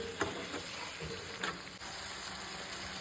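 Chicken cafreal simmering uncovered in gravy in an open pan, a steady soft sizzle and bubbling with a few faint stirring scrapes, close and continuous with no talk.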